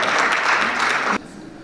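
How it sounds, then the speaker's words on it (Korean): A short burst of audience clapping welcomes a minister at a study-group meeting. It is full and close, then cuts off abruptly after about a second, leaving quiet room tone. "큰 박수로 환영해 주시면 감사하겠습니다"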